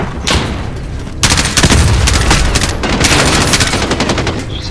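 Sustained automatic gunfire in the video game Call of Duty Modern Warfare, loud rapid bursts of shots layered with heavier booms, nearly continuous with only a brief gap early on.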